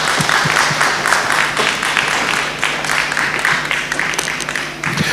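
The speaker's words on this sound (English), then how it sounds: "Please, can you give her a round of applause," An audience at a Nigeria diaspora investment summit applauds after a presentation, a dense, steady wash of many hands clapping at full loudness throughout.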